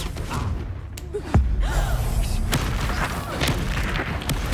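Confringo fire spell from Hogwarts Legacy bursting in a game battle, a sharp booming thump near the middle over steady crackling background effects and a low rumble.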